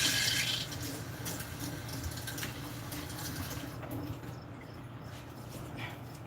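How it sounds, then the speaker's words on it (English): An onion rinsed under a running kitchen tap, with steady splashing water close by that thins out partway through, and no talking over it. "Rinse this off."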